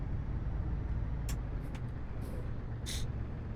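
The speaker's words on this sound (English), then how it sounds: "Is that engine audio loud enough?" A heavy truck engine drones steadily in a trucking video game, a low continuous rumble with a few short high hisses of air brakes over it.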